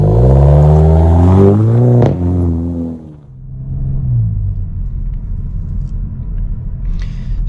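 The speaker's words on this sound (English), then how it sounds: "I'm going to give you guys a little acceleration so you can hear said exhaust." A VW Alltrack's exhaust rumbles as the car accelerates in sport mode, rising in a loud, close drone for a few seconds, then settling into a steady lower growl as it cruises on.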